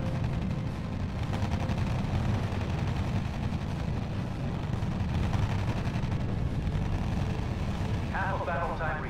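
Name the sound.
gunfire as units attack anti-tank guns in video game RUSE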